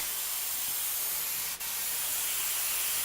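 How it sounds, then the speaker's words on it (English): A lacquer spray gun hisses steadily as it coats a wooden board. The close, even hiss runs without a break, with one brief dip partway through. "If you're familiar with a lacquer gun, that's fine, but if not, I'm usually the one that lacquers it."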